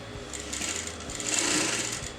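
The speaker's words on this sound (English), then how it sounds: "So I'm going to sew on the exact line over here." A sewing machine stitching a kurta neckline, running in one continuous close, steady hum with rapid mechanical needle chatter, no talking.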